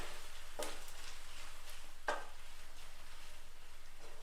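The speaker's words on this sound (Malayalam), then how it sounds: "ഇനി ചിക്കൻ സോസേജ് നമുക്കൊന്ന് ഫ്രൈ ചെയ്തെടുക്കാം." Chicken sausages fry in hot oil in a pan, a faint steady sizzle with a couple of soft stirring clinks.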